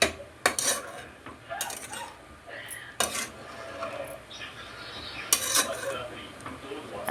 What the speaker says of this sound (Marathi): आता हे छान मी परतवून घेतले.